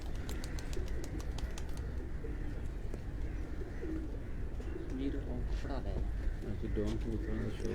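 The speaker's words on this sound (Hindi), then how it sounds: "ये उड़ने वाला कबूतर है" Flying-breed pigeons coo on a rooftop, soft repeated cooing calls close by, mixed with chirps and a steady background hum while people talk.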